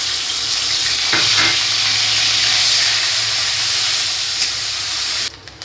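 Onion paste frying in hot oil for a patia fish curry, a loud continuous sizzle and hiss with a few sharp crackles and stirring scrapes, dropping off abruptly near the end.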